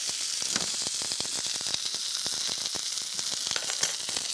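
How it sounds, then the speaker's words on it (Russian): Red fish fillets fry in a pan with a steady, bright sizzle and hiss, punctuated by frequent small pops and crackles of spitting oil, close and continuous with no talking. "Вот жарится рыба."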